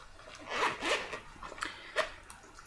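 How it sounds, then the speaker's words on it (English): A pink zipper on a flat black makeup bag is pulled open in several quick rasping strokes, close up and moderately quiet. "it has a kind of pink zipper"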